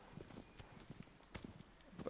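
Horse hooves clip-clop at a slow walking pace in the Shadow of the Colossus video game, a faint, steady series of soft knocks with no talking.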